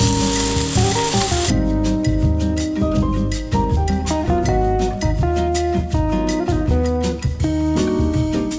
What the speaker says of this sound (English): Can you guys even hear that sizzle?